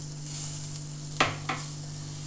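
Chopped onion goes into a hot pan of oil, giving a steady close sizzle with two sharp splashes of hissing as pieces land and are stirred, with no talk.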